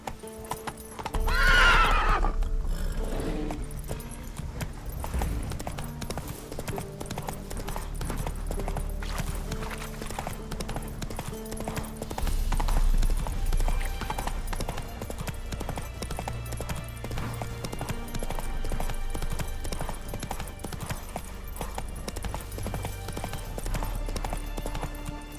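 Roach, the horse in The Witcher 3, gives a loud high whinny near the start, then steady rhythmic hoof clip-clops continue for the rest of the stretch, mid-distance and clear against a low game background.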